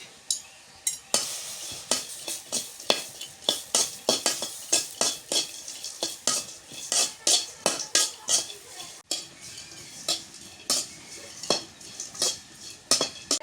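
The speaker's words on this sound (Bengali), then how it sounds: "শুটকি কটা ভাজা নিই আগে।" Dried fish (shutki) frying in a pan in a village kitchen, with a soft sizzle under repeated close metal scrapes and clinks of a spatula against the pan, rhythmic and fairly loud, no talk.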